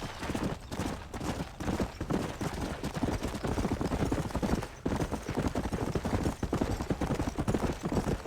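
Horse hooves pound at a gallop in Red Dead Redemption, a fast, steady clip-clop rhythm that stays loud and close across the whole stretch, with faint scattered gunfire and ambient game noise behind.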